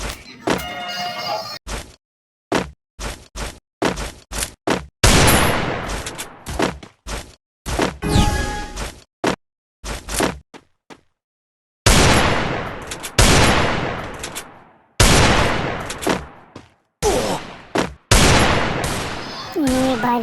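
Desert Eagle pistol shots in the video game Free Fire: a long run of single, sharp, close gunshots. Each one decays quickly, with short silences and irregular gaps between them.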